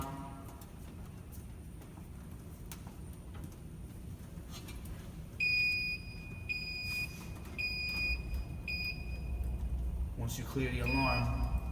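Fire alarm system sounding in a New York City building: after a few seconds, an electronic alarm gives repeated high-pitched beeps in an uneven on-off pattern, with people talking throughout.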